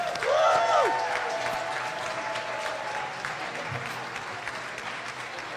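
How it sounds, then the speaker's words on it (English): Audience applause for graduating medical residents and interns at a hospital graduation ceremony, a moderate wash of clapping that starts fuller and gradually thins out while a brief tone sounds at the start. "So let's first have a huge round of applause for our graduating residents and interns."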